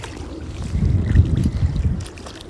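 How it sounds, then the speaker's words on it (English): Strong gusting wind at a low-tide beach on the Salish Sea buffets the microphone, swelling into a rumbling roar midway and then easing, with no voices. "It's really windy today."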